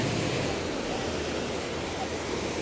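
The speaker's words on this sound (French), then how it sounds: "je vous laisse avec le bruit des vagues" Ocean waves breaking on the shore at Casablanca, a dense steady wash of surf noise filling the whole clip, loud and close, with no voices.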